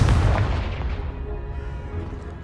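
A Confringo spell blast in Hogwarts Legacy, a single loud booming explosion with a heavy low rumble that decays over a couple of seconds, with no talking.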